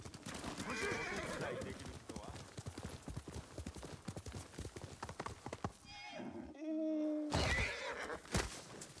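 In Ghost of Tsushima Director's Cut, clip-clopping hooves run under a busy game soundscape, then a horse whinnies loudly near the end, with a second short neigh after.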